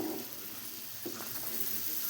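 Onion fries in a pan over a wood fire for a dhaba-style kanda shev bhaji, giving a faint, continuous hiss and sizzle.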